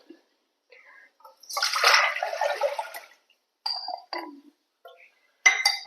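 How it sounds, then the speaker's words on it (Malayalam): Mixed liquid is poured into a rasam pot in a kitchen: a short splashing pour, then a few quieter splashes and light clinks with silent gaps between. "നമുക്ക് ഈ കലക്കി വെച്ചത് ഇതിലേക്ക് ഒഴിക്കുക"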